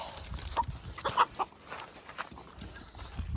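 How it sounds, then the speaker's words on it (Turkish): Hens cluck close by in a few short, scattered bursts over light outdoor background noise. "Bak bak yine tavukları mı kovalıyorsun sen?"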